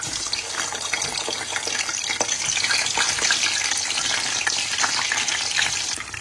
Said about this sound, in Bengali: তো আমি হচ্ছে প্রথমেই চিকেন স্ট্রিপস এটা ভাজবো